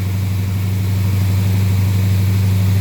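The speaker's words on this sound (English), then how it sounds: "Pretty rich idle." A 1970 Buick Skylark fitted with a 284-88H cam idling rich, a loud, steady low rumble with an even throb and no talk over it.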